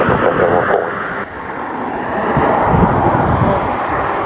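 A National Airlines Boeing 747-400F cargo jet lands at Doncaster Airport in the UK, its engines giving a loud, broad roar with wind rush that holds steady and swells slightly after a brief dip.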